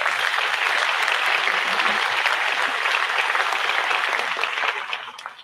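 A business-program audience applauds a cohort of entrepreneurs, producing loud, dense clapping that holds steady for several seconds before thinning out toward the end.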